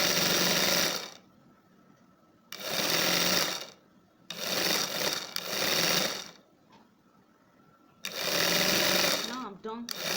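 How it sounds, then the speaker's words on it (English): A sewing machine sews a kaftan shoulder seam in several loud, even bursts separated by short pauses, with talk in between. "The next thing I'm going to do now is to stitch the shoulder closed with half inch back stitch."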